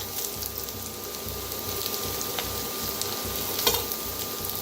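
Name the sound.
frying curry leaves, chilli, garlic and coriander stems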